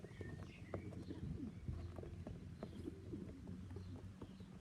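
Pure pilot pigeons in a loft give soft, repeated coos, with other bird calls mixed into a steady low hum. The calls are faint and sound close, and nobody speaks.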